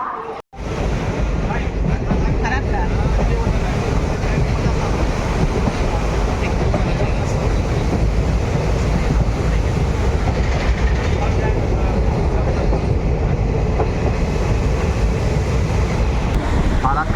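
Balurghat Nabadwip Express rolling across the Farakka bridge, a steady, loud rumble of carriages with faint clickety-clack running unbroken from near the start, heard from on board.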